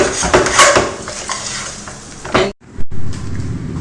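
Sweet chakkara pongal stirred with a spoon in a pan, repeated scraping and soft sizzling, loud and close, then a brief clatter of cookware.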